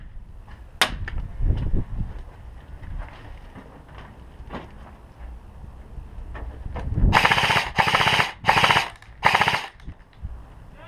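Video game gunfire in a team deathmatch on a map called Fighter Town: a sharp shot near the start, scattered lighter shots, then loud rapid automatic bursts in four close clusters toward the end, with no talking.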